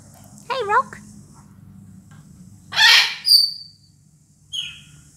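A pet bird calls close by with a warbling chirp, then sharp whistled chirps and a final short call, spaced out over quiet room tone, with a person talking softly near it.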